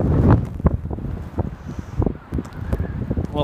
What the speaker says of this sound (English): Wind's gusting there up to probably over 100 there now.